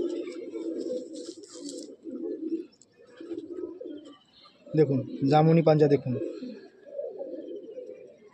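Breeding pigeons coo in low, steady rolling bursts throughout, with a person speaking over them for a couple of seconds midway.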